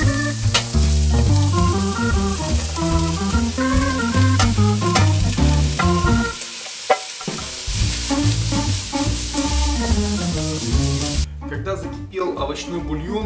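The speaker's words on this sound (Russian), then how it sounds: "В нагретое масло кидаем сразу лук и морковку обжаривать." Onion and carrot sizzle loudly in hot oil, with stirring clatter throughout and a voice speaking over the frying.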